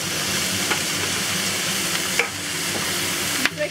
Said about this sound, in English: Give this a good toss. for about 30 seconds.